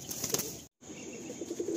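A released Madrasi pigeon beats its wings in rapid, soft flutters overhead, brief bursts broken by a short gap, fairly faint against light background noise at a Kolkata loft.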